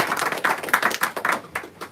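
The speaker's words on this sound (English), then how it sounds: "We're going to round of applause for James, everyone." Indoor audience applause at an aquascaping workshop in a tropical fish shop: a small group clapping unevenly for about two seconds, with distinct separate hand claps rather than a thick wash.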